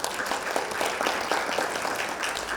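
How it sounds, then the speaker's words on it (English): Fairly quiet audience applause at an impact enterprise event, a steady even patter of many hands for about two and a half seconds with no voices on top. "Can we have a round of applause?"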